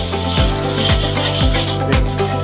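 Spice paste being sautéed in a pan for a tilapia tomato curry, with a spatula scraping the pan in steady, repeated strokes about every half second over a continuous hiss.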